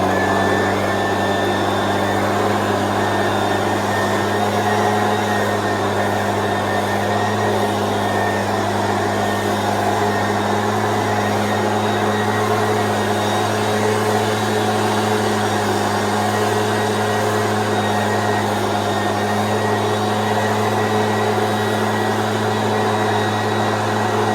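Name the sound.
backpack blower running during garden cleanup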